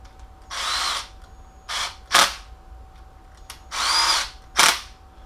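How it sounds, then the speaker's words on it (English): A power tool runs down 11mm rod end cap bolts on a 3.7L 2006 Jeep Grand Cherokee Laredo engine during a rebuild, with five short close whirring bursts of about half a second to a second, separated by brief pauses. "we're going to run these 11mm bolts"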